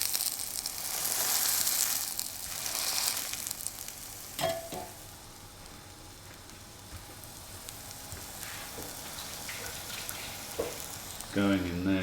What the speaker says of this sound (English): Okay, so I've got some heated oil and just going to put that in there and it will get lovely and crispy.